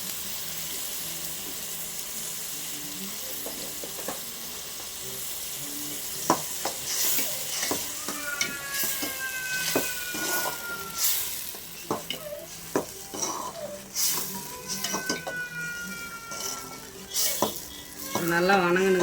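Tomatoes fry with salt in a pan, a steady close sizzle with repeated scraping and stirring strokes of a spoon against the metal, growing busier toward the end.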